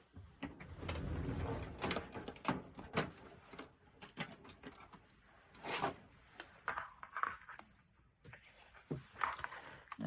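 Die-cutting machine feeding card through for a butterfly card: irregular clicking, ratcheting and grinding mechanical noises, close and fairly quiet, with uneven bursts.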